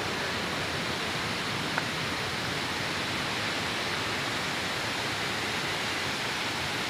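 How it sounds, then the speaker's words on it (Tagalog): Batlag Falls in Tanay, Rizal, gives off a constant, even roar of falling water that fills the space without pause, with no voices over it. "Hiwa-hiwalay ang mga waterfalls na guys"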